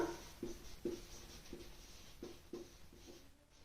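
A pen or chalk writes on a board during a maths lesson on triangles and angles, giving a soft series of scratchy strokes at an uneven, steady pace, close and quiet with no voices.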